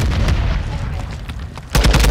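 Gunfire in a team shooter video game, a burst of loud sharp shots at the start, a quieter stretch of scattered reports, then another heavy volley near the end, with no talk over it.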